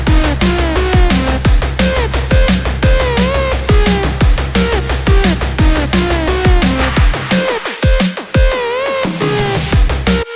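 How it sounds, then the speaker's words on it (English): Drum and bass synth lead built in the Hive synthesizer at 174 BPM plays a bright, gliding melodic line over a steady, punchy beat, loud and continuous with a brief breakdown near the end. "Today we're going to be making drum and bass lead sounds from scratch"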